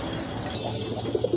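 Domestic and imported pigeons at a breeding farm give a few soft, low coos near the end, rising over a steady background hum with no talking.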